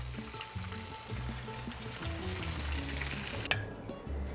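Cheese taquitos frying in oil in a pan as the bottoms turn golden, a steady close sizzle and crackle with a light clink near the end, no talk.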